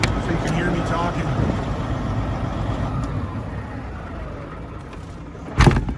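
A 1996 Freightliner FLD120 truck's engine runs at a steady idle, a low rumbling drone that fills the clip before a short louder knock near the end as it is shut off.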